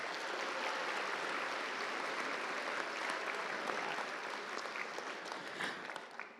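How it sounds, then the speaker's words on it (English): Crowd applause for award winners at a miniature painting convention ceremony, sustained even clapping from many people in a large room, easing slightly near the close. "Let's get a round of applause on there."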